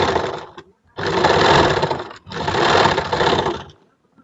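A sewing machine stitches the elastic waistband into trousers, running in three loud close bursts separated by short pauses, with no talking.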